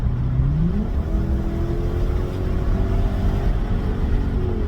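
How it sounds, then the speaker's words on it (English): A Lexus LS460 with a modified exhaust idles then revs up with a deep, throaty exhaust rumble, holding a steady drone close by. "Well, at least you could hear the car now."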